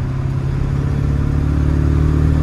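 A broken OBS Ford F250 with a 7.3L Powerstroke diesel accelerates in a loud, steady low-pitched drone that builds slightly in strength, heard close and with no talking.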